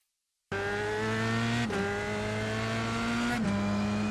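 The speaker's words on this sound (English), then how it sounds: "I'm just starting to get back on the throttle, full on the throttle" A Dallara F3 race car in the iRacing sim runs at full throttle around Mount Panorama Bathurst, giving a loud, steady, high engine whine. The pitch climbs through two quick gear shifts that leave short dips in the tone.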